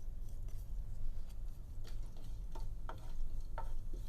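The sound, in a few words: dry spices popping in hot oil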